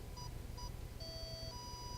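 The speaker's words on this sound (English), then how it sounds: "right clicking will make the little beep and have the little redstone puff come out" Remote control beeping in the Minecraft RC mod, a few short faint electronic beeps followed by a longer two-tone beep, over a quiet background hum.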